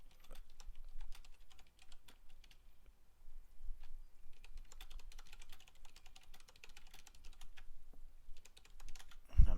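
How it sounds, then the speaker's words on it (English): Quiet, rapid clicking of keys on a computer keyboard, continuous with short pauses, close and soft. "I'm just typing into chat, get everything done."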